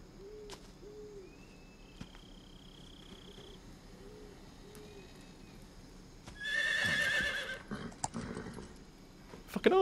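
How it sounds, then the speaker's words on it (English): Horse neighing in the jungle in the video game Metal Gear Solid 3, a loud whinny mid-clip over quiet ambience with owl-like hoots and faint hoof clops. "There's a horse somewhere. In the jungle."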